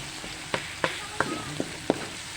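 Garlic frying in a pan for macaroni sopas, a steady close sizzle broken by five sharp scraping stirs spaced roughly evenly across the stretch.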